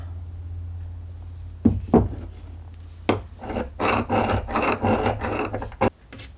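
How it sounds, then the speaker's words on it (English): A metal hand file rasps against a piece of brass being shaped into a primitive drill bit, a few sharp single strokes followed by a run of close, loud, rhythmic filing passes. "I did break out a file though, and I flew through that in like a minute."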